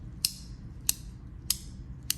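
A handheld haptic fidget coin gives four light, sharp clicks spaced about two-thirds of a second apart, crisp and close against quiet background hum.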